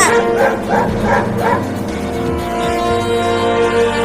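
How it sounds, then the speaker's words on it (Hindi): Cartoon dog barking in a rapid series of loud, close yips and bow-wows, followed by a sustained whining tone over a busy animated soundtrack. "मम्मी देखो, एक कुत्ता जा रहा है चिंटुआ को काटने के लिए"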